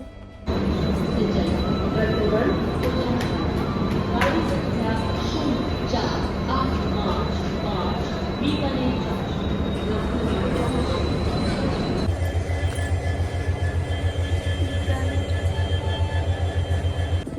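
A train at Bikaner railway station makes a continuous loud rumble of wheels and carriages with occasional high metallic squeals, heard close up from on board or beside the track.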